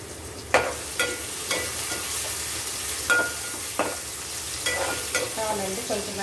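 Onion masala frying in a pan for mutton curry, a continuous sizzle broken by about a dozen sharp scraping stirs of a spoon against the pan, close by, with no voices.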